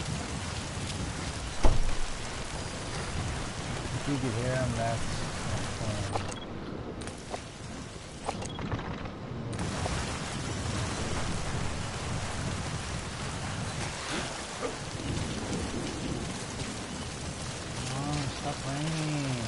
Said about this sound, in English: Oh, stop raining.